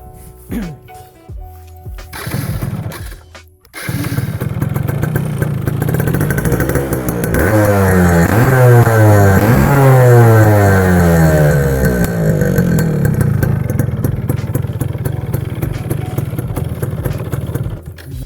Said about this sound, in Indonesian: oh kalian pasti penasaran sama suara motor ini?